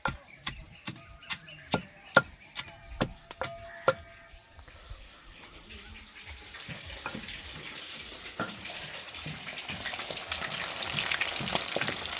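After a few sharp pounding thumps, fish frying in a pan takes over as a steady, close sizzle that grows louder and denser, with occasional faint clinks in the hiss.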